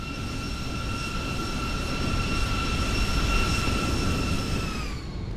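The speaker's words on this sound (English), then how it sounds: "That was a pretty good landing, considering I haven't flown this sim." A Boeing 737-800 airliner in the X-Plane 12 flight simulator touches down and rolls out, with a loud, steady engine roar and sustained whining tones that slide slightly downward as it slows.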